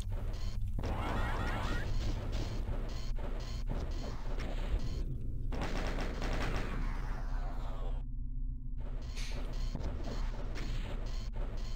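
Rocket launcher blasts and explosions from Doom 2 fire in a dense, loud, continuous barrage of crashes and booms, with repeated impacts, a brief lull near the end, then more blasts.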